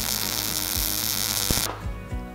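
A MIG welder arc running with correct settings produces a steady, bright crackling buzz that cuts off partway through, leaving low background hum and a few soft knocks.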